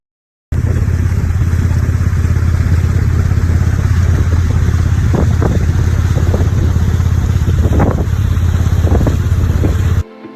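A loud, steady houseboat motor engine drones continuously on the water at Tanguar Haor, Bangladesh, with wind buffeting the microphone and occasional brief knocks, cutting off abruptly near the end.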